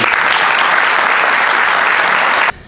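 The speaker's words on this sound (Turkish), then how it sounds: "Başkanımıza bir hoş geldin alkış yapayım mı?" Students give the Buca mayor a welcome round of applause at a school event, a loud, dense roar of clapping close by that cuts off abruptly near the end.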